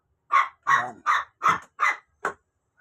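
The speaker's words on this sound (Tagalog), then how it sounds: "Ayun yung aso, si Winter." A dog barks six times in a regular rhythm, close and fairly loud, with short silent gaps between barks, from a second-floor house.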